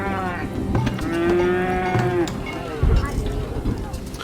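Cattle in the Farthest Frontier video game low and moo, with one long drawn-out moo standing out over a busy layer of other game sounds and a thump near the end.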